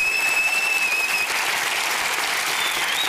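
Studio audience applause on a Norwegian comedy panel show, dense sustained clapping with a few whistles riding on top near the start.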